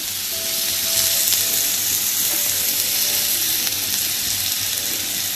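Hot cooking oil sizzles steadily in a heated wok on a gas stove, a loud continuous crackling hiss with faint stirring and no voices.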